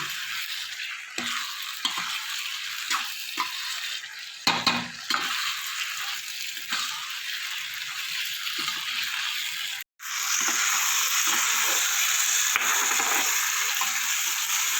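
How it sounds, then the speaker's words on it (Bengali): Fried potatoes sautéed with spices in a pan make a steady, fairly loud sizzle with stirring scrapes. A brief break near the middle gives way to a brighter, stronger frying hiss. "আলু দিয়ে আমার এটা কষানো হয়ে গেছে।"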